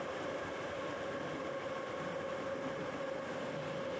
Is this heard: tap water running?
no